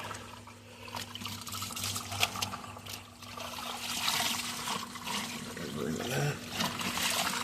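Soapy water from a washing machine drain hose splashes and trickles steadily onto the ground outside, a continuous watery hiss with a low mechanical hum beneath.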